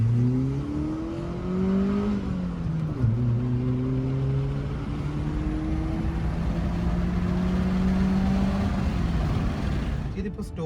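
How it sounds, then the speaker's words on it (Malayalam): The engine of a 16-year-old stock, unmodified car runs and revs as it is driven, its pitch rising and falling through several throttle changes at close range and fairly loud throughout. "വണ്ടി ഇപ്പോൾ ഓണാക്കിയിട്ടുണ്ട്. എൻജിൻ പക്കാ സ്മൂത്ത് അല്ലേ"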